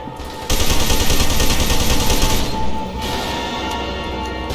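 Sustained rapid automatic gunfire in FEAR 2: Project Origin, loud and dense bursts rattling continuously before easing into a lingering noisy echo, with no talking.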